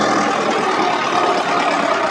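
A tractor engine strains while pulling a heavily loaded trolley of about 200 quintals, during a John Deere versus Mahindra tractor pulling contest. The rumble is loud, steady and continuous, with no talk.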